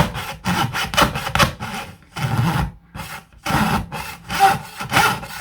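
A jeweler's saw with a 38-tooth blade cuts around the edge of a piece of wood, with close rhythmic rasping strokes in quick bursts broken by brief pauses.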